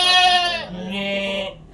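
An Etawa goat gives two loud, close bleats in quick succession, the first higher and quavering, the second lower and drawn out.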